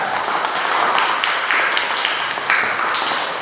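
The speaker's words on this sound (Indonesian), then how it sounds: "Baik, tepuk tangan." A classroom of students claps on a teacher's cue, giving a dense, continuous patter of hand claps of even loudness that runs a few seconds with small bursts, and no clear talk over it.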